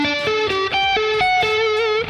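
Electric guitar riff played on an Ibanez AZ set to a single coil, slightly out of tune, with distorted, effected tone; a steady run of picked notes, close and loud, with no talking.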